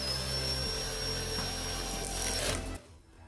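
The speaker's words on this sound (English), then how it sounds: "I thought I'd save a little bit of time by just drilling these screws right into place." A power drill drives screws straight into wood without a pilot hole while building a wooden charging station. The motor whines steadily and loudly for a couple of seconds, then stops abruptly.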